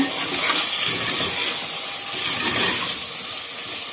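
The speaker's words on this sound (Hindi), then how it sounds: "अब इसके अंदर मटर डाल दें" Peas tipped into sizzling, frying masala in a pan for an aloo matar gajar dish, giving a steady loud hiss and crackle of steam throughout.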